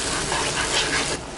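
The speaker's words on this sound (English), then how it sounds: "we expand it with 1 cup of water" A cup of water gushes steadily into tomato sauce frying in a pan, a close, loud rushing pour that eases off near the end.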